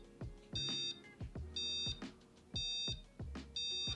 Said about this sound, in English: Okay, so now I'm going to test the alarm system. So I'm actually going to arm all available sensors. We have a countdown.